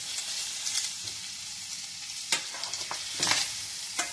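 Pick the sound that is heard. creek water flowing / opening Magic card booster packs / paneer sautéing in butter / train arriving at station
paneer sautéing in butter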